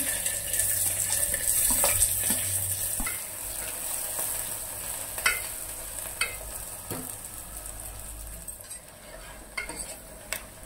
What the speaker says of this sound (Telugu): పచ్చిమిరపకాయలు వేగినాయి కదా, ఆనియన్ వేసుకుందాం.